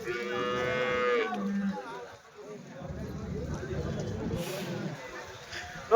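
Cows moo loudly and close by at a weekly cattle market in Chintamani, a long drawn-out low followed by more lowing amid barn noise and people chatting in the background.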